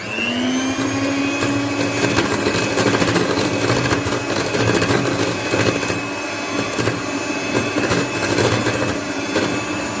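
An electric beater whips cream with sugar and vanilla essence at full speed, making a loud, continuous motor whine and rattle that holds steady throughout. A voice speaks briefly over the noise.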